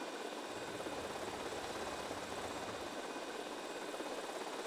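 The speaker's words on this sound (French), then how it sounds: "Paye ton putain de hélico RC." A remote-controlled toy helicopter buzzing in GTA Vice City, a steady faint whirring engine drone held at an even level throughout.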